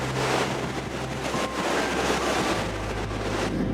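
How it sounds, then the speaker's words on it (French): Strong wind buffeting the top of the Capucins islet on the coast, a continuous roaring rush with gusty swells and low rumble, loud and close against the microphone, with no voices. "Il y a énormément de vent"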